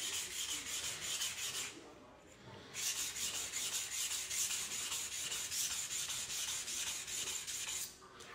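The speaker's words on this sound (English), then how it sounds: "We're only polishing one side of this white number steel knife." A white steel knife is rubbed on a King 300 whetstone in fast, even back-and-forth strokes, with a brief pause before the close scraping rhythm resumes.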